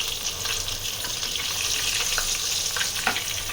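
Basil leaves frying in hot oil in a home kitchen while an iftar meal is prepared, giving a steady, close hiss of sizzling with faint stirring clicks and no voices.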